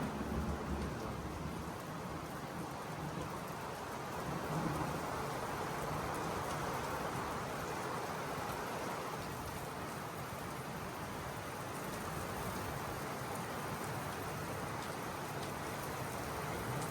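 Steady heavy rain pours continuously with a dense wash of noise, and low thunder rumbles beneath it throughout.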